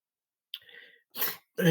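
A short throaty cough followed by two harsher, noisier coughing bursts, close and fairly loud, with gaps of silence between them.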